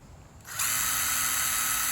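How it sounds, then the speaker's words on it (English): A power drill spins up and bores a hole in the plastic housing of a Midea U window air conditioner to let condensate drain, starting with a brief whirr before a steady close, loud high-pitched grinding whine. "just drill some holes in it to let the condensate water drain out like a normal AC unit"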